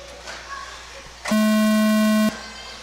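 A single loud, steady electronic tone plays on a live stream of a race event, lasting about a second before cutting off abruptly, set against a quiet room background.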